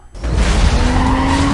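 A car skids loudly in Need for Speed: Most Wanted (2005), with a dense burst of tire and impact noise that sustains to the end under a rising tonal whine; there is no talking.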